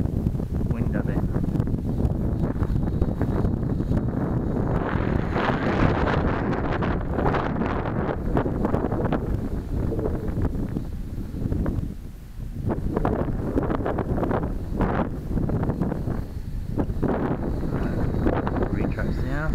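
Strong gusting wind buffets the microphone on a windy day at a model jet flying field, a loud continuous rumble that swells and dips, with voices occasionally heard beneath it.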